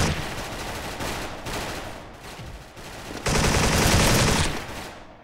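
Automatic gunfire from a G3A3 rifle in the online shooter Special Force, sounding in several sustained bursts with short gaps, the last and loudest burst running over a second before trailing off.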